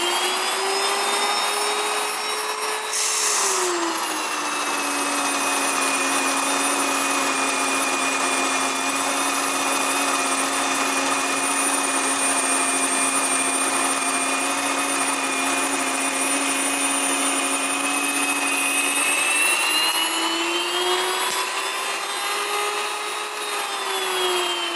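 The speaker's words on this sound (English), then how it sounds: "Okay, I'm gonna show you how I grind the wheat." An electric grain mill grinds wheat with a loud, steady high-pitched whine and roar that holds for the whole stretch, its pitch shifting briefly near the start and again toward the end.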